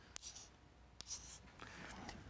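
Chalk or marker strokes on a board while writing Hebrew letters, heard as faint, brief scratching strokes with sharp taps between them in a quiet room.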